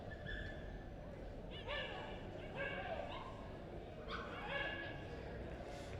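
Scottish Terrier yips and whimpers at a dog show ring, faint high-pitched bursts in small clusters over a steady crowd murmur and distant talk.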